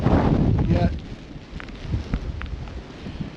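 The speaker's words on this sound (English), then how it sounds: "it is very windy" Strong wind blowing outdoors in a snowstorm on a hilltop, a loud rushing gust at first that eases into steady buffeting, with a few faint thumps and brief voice sounds.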